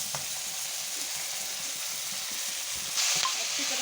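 Raw chicken pieces hit a hot pan of frying vegetables for restaurant-style shashlik, giving a steady, close hiss of sizzling oil with light stirring scrapes; the sizzle swells louder near the end.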